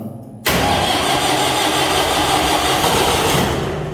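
After a moment of quiet, an engine on a test run following a starter motor replacement cranks and catches abruptly, then settles into a loud, steady running drone close by.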